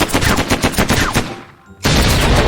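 Gunfire in a space-war map of the Mini World block game, a loud rapid automatic burst that briefly drops away, then resumes with equal force.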